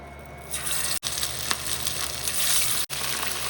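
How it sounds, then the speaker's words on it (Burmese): Marinated pork ribs fry in oil in a pot over medium heat, giving a loud, dense, continuous sizzle up close, broken by two brief silent gaps. "ဒီကြက်တုံမြူကျော်ထားတဲ့အိုးမှာပဲစီထက်ထည့်ပြီးဝက်နဲ့ရွတ်ကိုကျော်ပါမယ်နော်"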